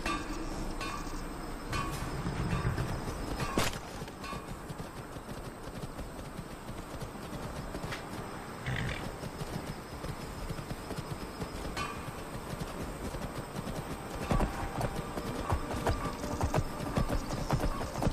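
Steady clip-clop of horse hooves trots on for a long stretch in Skyrim, with faint crickets and soft ambient noise in the background.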